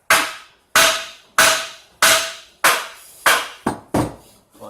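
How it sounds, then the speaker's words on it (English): Hammer blows ring out during a Rough Country 6-inch lift install on a truck: eight sharp, loud metallic strikes in a steady rhythm, each decaying quickly, with no talk over them. "Hit it with the hammer."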